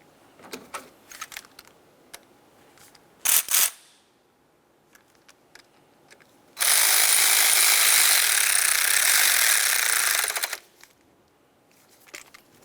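Tightening the AC compressor bracket mounting bolt on a 2006-2011 Honda Civic with a power tool, a few short ratcheting clicks and then a loud sustained whir lasting about four seconds before stopping.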